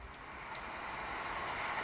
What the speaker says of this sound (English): Then we can go to rain.